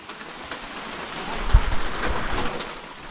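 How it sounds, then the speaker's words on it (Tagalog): Heavy rain pours outdoors at a house construction site, a steady dense hiss with scattered louder splashes and thuds throughout, with no one talking. "Ginagera na tayo ng ulan."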